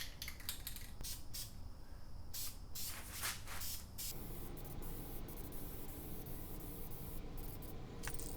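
Light coat of spray paint going onto Chevelle engine parts, a steady continuous aerosol hiss in several close bursts with short pauses, no talking.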